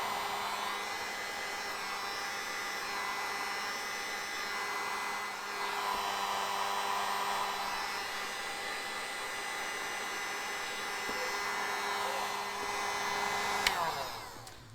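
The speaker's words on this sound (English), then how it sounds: "To remove the decal, I'm gonna need to use the heat gun." Heat gun blowing on a custom taillight decal of a 2021 Dodge Charger, a steady whooshing fan roar with a faint whine held for about fifteen seconds, close and even, with no talk.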